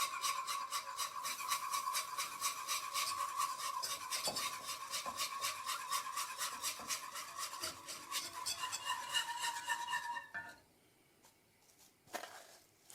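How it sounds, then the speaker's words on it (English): Wire whisk scraping and rattling rhythmically against a pot as milk is worked into a roux for béchamel sauce, steady and close for about ten seconds before stopping, with a couple of faint clinks after. "I'm going to start adding my milk and keep whisking well"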